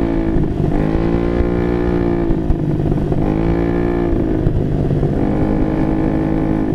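A motorcycle engine revs loudly and close by, the pitch climbing and dropping in repeated surges over a steady rumbling idle, with no voices.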